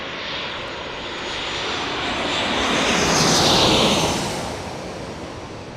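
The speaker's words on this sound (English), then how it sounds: "Southwest Airlines from El Paso is next. You can start to hear it." A Southwest Airlines jet from El Paso on approach to San Diego airport roars steadily overhead, a broad engine rumble and rush that swells to a peak near the middle and then eases slightly, with no voices.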